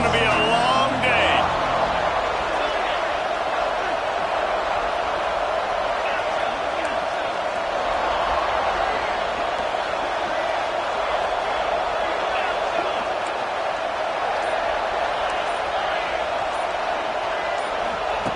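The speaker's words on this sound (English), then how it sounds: "This crowd, full throat, splitting the eardrums and letting them know it's going to be a long day." A dense, steady crowd roar fills a stadium in the NCAA 26 college football video game, loud and continuous for the whole stretch, with a few sharper bursts near the start.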